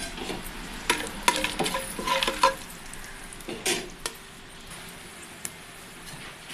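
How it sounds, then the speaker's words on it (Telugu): Whole spices and cashews frying in oil for a Nellore-style chicken biryani make a faint, low sizzle under several sharp metallic scrapes and clinks of a spoon against the pan. "మసాలా దినుసులు వేగిన తర్వాత ఒక ఏడు ఎనిమిది జీడిపప్పు వేసుకోండి"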